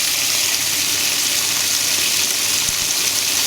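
A Whirlpool washing machine fills with water, giving a steady, close, broadband rush and hiss that holds even and unbroken throughout, with no voices.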